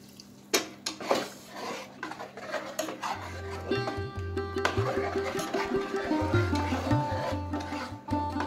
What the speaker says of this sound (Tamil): மசாலாவை நல்லா கட்டிலாம் கரைச்சி விட்டுக்கலாம்.